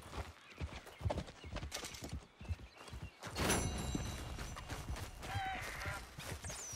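A horse in the video game Red Dead Redemption 2 on PS4 clops its hooves at a walking rhythm, then lets out a whinny. The hoofbeats are close and steady, with faint background game ambience.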